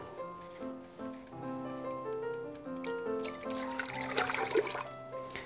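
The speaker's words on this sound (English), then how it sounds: "We're going to put our water in this pan" Water runs steadily into a pan for canning syrup, a continuous pouring trickle that grows louder and splashier toward the end, with musical tones underneath.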